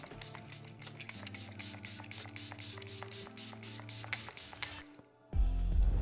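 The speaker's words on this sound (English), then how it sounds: "The last and final thing I'm gonna do is go in with a little bit of setting spray." A quick, rhythmic series of soft bursts of Rare Beauty makeup setting spray, about a dozen or more close spritzes in a row, followed by a louder rustling noise.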